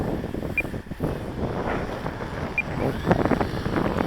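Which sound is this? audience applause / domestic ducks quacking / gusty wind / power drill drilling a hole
gusty wind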